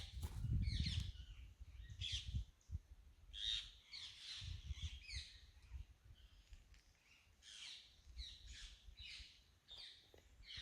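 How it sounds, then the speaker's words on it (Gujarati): Birds call from trees at a forest campsite in Jambughoda, repeated squawking and chirping phrases in irregular bursts at moderate distance, with a soft low rumble near the start and no voices. "આ ઝાડ ઉપર જે પક્ષીઓના અવાજ આવે છે એ એકદમ સુંદર અને મનમોહન છે"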